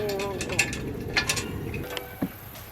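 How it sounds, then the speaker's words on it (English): Screws are driven in by hand during heavy lifting work, giving a run of close ratcheting clicks and metallic ticks in short irregular bursts, with people talking over the mechanical noise. "You gotta screw these in."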